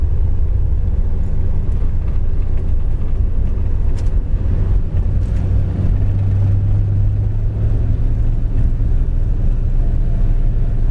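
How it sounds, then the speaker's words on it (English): A green 1966 Ford Fairlane with a four-speed gearbox and a slight vibration cruises along the road, a steady loud low engine drone and road rumble heard from inside the car throughout. "I drove this car out here, you can just tell it's just got a little vibration in it"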